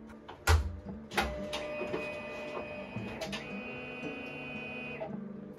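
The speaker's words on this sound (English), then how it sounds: "First, gotta turn on the printer." A single-drum risograph printer in a Seoul home studio starts up with sharp mechanical clunks and thumps, then settles into whirring motor tones and intermittent clicks, fairly close and moderately loud, with no talking.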